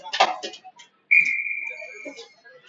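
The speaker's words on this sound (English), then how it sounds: "Ref blows his whistle, and here we go." A referee's whistle sounds at a college ice hockey game, a single sustained shrill blast of about a second, fairly loud, with a commentator talking before and after it.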